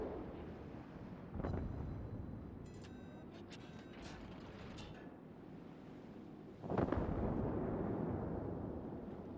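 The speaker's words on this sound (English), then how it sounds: "That's the Fuso dealt with an airstrike" A World of Warships airstrike hitting the burning Fuso battleship: two deep, rumbling explosive blasts several seconds apart, with a muffled roar of wind and sea between them and a few thin metallic pings.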